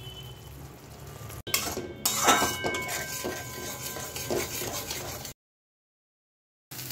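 Spice paste for a prawn dish is stirred and fried in a pan, with spatula scrapes and clinks over a low sizzle, close up, ending in a moment of silence.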